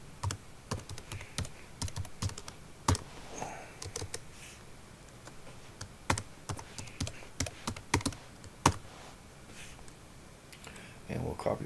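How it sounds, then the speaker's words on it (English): Steady run of keystrokes on a computer keyboard while HTML code is entered for a responsive HTML5 webpage, close and clear with brief pauses, under a faint low background. "So let me just go ahead and type this out real quick."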